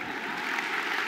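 Graduation audience applause at a university ceremony, a brief dense wash of many hands clapping steadily from a crowd in a large hall.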